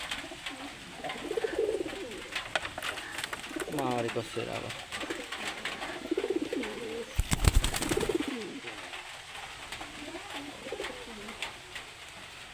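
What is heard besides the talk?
pigeons cooing inside a pigeon house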